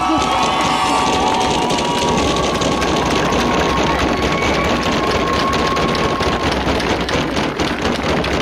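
Crowd cheering and applauding a champion at the French Cup 2022 awards ceremony during the trophy presentation, a dense, steady roar of clapping and voices that stays loud and continuous throughout.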